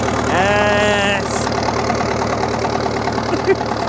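A bulldozer's diesel engine runs after a restart, its steady broadband rumble swelling briefly as the throttle comes up and then settling back to an even, loud running note.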